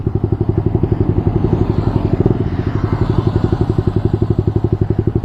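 A manual-transmission motorcycle engine chugs in a steady, rapid, close pulsing beat as the bike begins to creep forward on a half-engaged clutch, with no talk over it.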